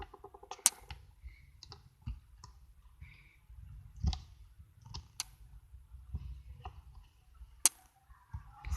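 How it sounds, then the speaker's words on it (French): A stick of glue is scraped out to the last bit in slime making: a series of faint, irregular clicks and scratchy taps, close and quiet, with short gaps between them. "il reste un tout petit peu de colle, on va tout gratter"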